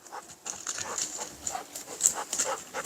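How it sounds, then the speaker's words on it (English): A truffle dog dashes through the woods, panting and scrabbling nearby in quick irregular bursts against a soft outdoor background. "There's Loki, our truffle pup."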